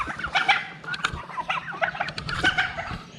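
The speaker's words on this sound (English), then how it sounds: "Now we have 100 chickens out here." Several chickens on a farm with about 100 chickens cluck and squawk close by in busy, overlapping bursts, with no talking.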